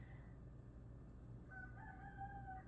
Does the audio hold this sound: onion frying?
no